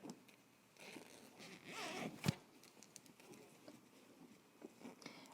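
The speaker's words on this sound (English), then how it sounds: "now we can go ahead and open up your zipper." A dress zipper pulled open in a quick rasping run, ending in a sharp click, with soft fabric rustling before and after.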